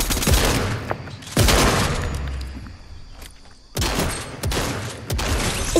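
Gunfire bursts out in the Fortnite video game in several loud, rapid volleys separated by brief pauses.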